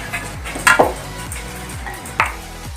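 Chicken pieces for chilli chicken hiss steadily in a hot pan while a utensil scrapes and clinks against it in a few distinct strokes, close and moderately loud.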